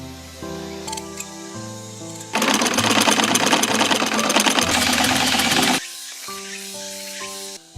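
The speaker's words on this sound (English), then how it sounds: "The finished cloth is cut and sewn into a traditional garment." A sewing machine stitches persimmon-dyed plant-fiber cloth into a traditional garment, a fast mechanical whirring burst of several seconds between quieter passages with tonal music.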